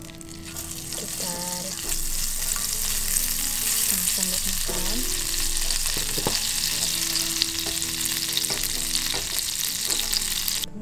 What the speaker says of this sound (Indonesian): Kemudian kita panaskan sedikit butter atau margarin juga gak apa-apa.